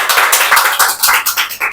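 An audience claps for a student speaker after her talk at an English-language seminar; the loud, close, fast patter of hands is uneven and ragged, with a brief dip midway.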